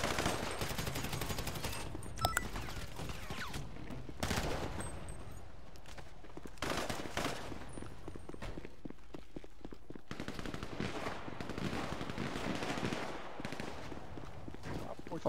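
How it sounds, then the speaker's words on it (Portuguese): Gunfire in a police roleplay video game, with repeated shots and rapid machine-gun bursts running loud and nearly continuous throughout while players talk over it. "Eles estão atirando aqui, ó."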